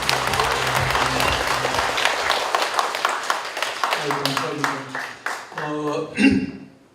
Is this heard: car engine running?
no